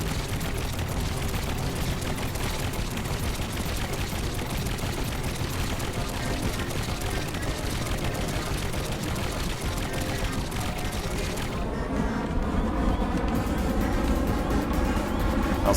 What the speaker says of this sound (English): Toggles for 2 sets of cannons that alternate in the front.